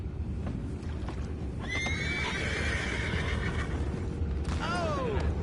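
Two horses whinny, one around the middle and another near the end, over a steady low rumbling background.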